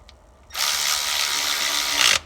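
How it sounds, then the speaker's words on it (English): A power tool driving the rear bolts that secure a Borla X-pipe under a C7 Corvette Stingray, heard as one steady high whirring run of about a second and a half, close, with no talking. "I reinstalled the bolts in the rear to secure the pipe"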